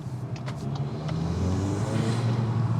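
Volkswagen MK8 Golf R engine fitted with a RacingLine turbo inlet pipe and elbow, a steady low car engine rumble close by, idling without revving and alone without talk.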